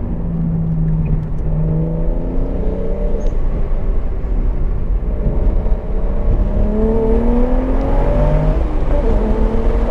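A single-turbo BMW 335i laps the dry Sebring circuit, its engine droning close and steady while the pitch climbs and falls through repeated acceleration runs, with no voices over it.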